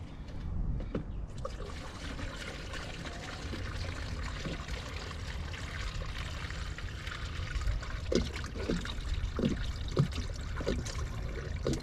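Coolant is poured into the cooling system of a 2016 Dodge Charger 3.6L, a faint trickling gurgle with scattered small knocks and splashes over about twelve seconds.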